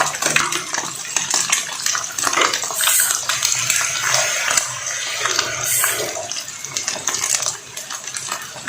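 Squid dropped into a hot pan for upgraded Indomie, a loud, close hiss of sizzling and spattering with metallic clinks running steadily throughout.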